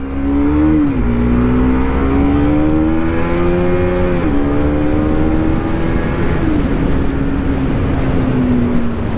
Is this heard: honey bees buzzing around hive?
no